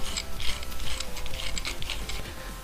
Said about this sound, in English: The next thing I've got to do is just remove the bottom nut.